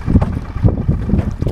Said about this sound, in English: It seemed like the wind was a lot worse.